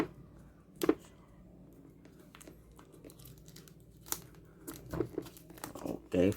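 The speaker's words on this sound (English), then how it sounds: "let's remove the plastic" Plastic wrapping being pulled off a DT99 smartwatch: quiet, close crinkling and tearing, with scattered sharp rustles and a louder crackle near the end.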